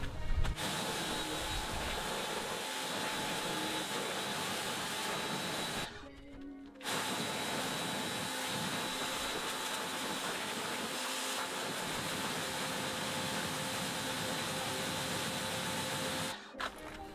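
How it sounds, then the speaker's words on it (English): Pressure washer blasting remover gel and paint off a wet car wheel, a loud continuous hiss with one brief dip midway and a short break near the end. "let me grab the pressure washer and see if it'll come off"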